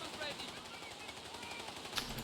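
Machine gun fire in the WWII strategy game Company of Heroes 3: a steady, fairly distant rattle of automatic fire runs under ongoing battle noise, with a brief sharper burst near the end.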